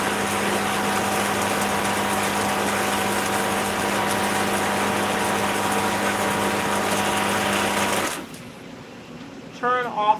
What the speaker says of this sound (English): Turn off the vacuum pump.